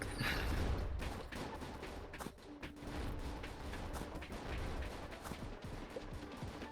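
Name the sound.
grenades being thrown and exploding in a video game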